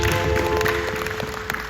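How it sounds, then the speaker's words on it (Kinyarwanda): A church congregation breaks into sustained applause, a dense wash of clapping that stays loud and even before easing slightly, with a steady tone and murmurs underneath. "Dukubitira ijambo ry'Imana amashyi menshi"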